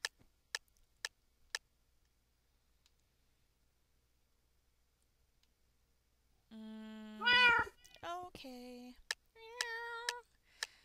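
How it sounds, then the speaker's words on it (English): Minecraft cat meows come in a cluster of several short, tonal game-sound calls after a few sharp clicks and a long quiet stretch, with one brief spoken word. "The cat noises are funny."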